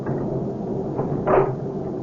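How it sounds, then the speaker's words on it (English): A door is pushed shut with a single short, solid thud and latch, moderately close, against a steady low room hum with no talking. "will you get the door closed and locked?"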